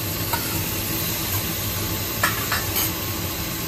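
Chopped tomato and green chillies hit a hot sizzling pan, a steady loud hiss of frying with a few scraping stirs of a spoon, continuous and close with no talking.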